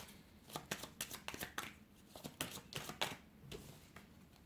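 Tarot cards are shuffled and drawn in quick, close bursts of crisp riffling and flicking, separated by short quiet gaps, soft and intimate.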